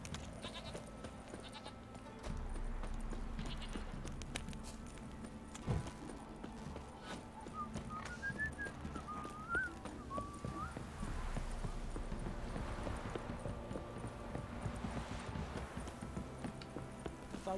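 Horse hooves clip-clop in The Witcher 3, a steady rhythmic trot over a low game ambience, with a few bleat-like animal calls in the middle and faint speech at times.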